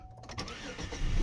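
A vintage Chevrolet Impala engine cranks and catches, a brief rough starting sound that swells into a louder rumble at the end.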